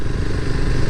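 Motorcycle being ridden during its break-in period on a road near Cavite: a close, steady engine drone with a rough, clattery texture throughout.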